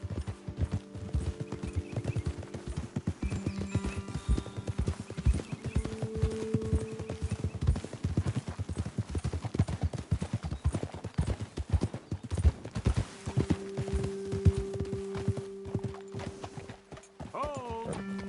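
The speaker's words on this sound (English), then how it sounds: "Okay, let's dismount here. Best leave the horses back a bit." Horse hooves clip-clop steadily in Red Dead Redemption 2, with a few neighs and whinnies rising near the end, all layered over sustained tonal game sound.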